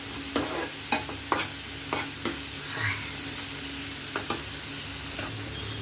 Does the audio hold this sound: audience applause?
no